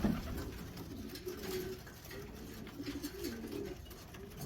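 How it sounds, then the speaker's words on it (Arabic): Racing pigeons arriving from a 1000 km race coo softly and repeatedly at close range, low rolling calls overlapping with a faint background hiss. "هذا الحمام كله طاير من السكاكة."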